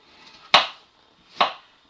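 A knife chops plums and apples into small pieces for compote, with two sharp, close chops on a cutting board about a second apart and quiet between them.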